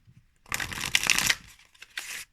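Pulp Tarot cards being shuffled by hand, a dense papery riffle of about a second followed by a shorter burst, close and clear with no talking.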